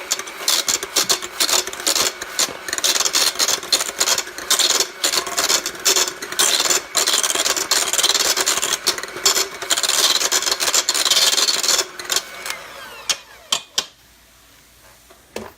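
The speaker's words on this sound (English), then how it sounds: "then I'm gonna get my hand mixer and I'm gonna show you how easy this is" Hand mixer beating cooked cauliflower with butter into a mash, a loud continuous whirring grind with clattering against the bowl for about twelve seconds before cutting off, followed by a few knocks.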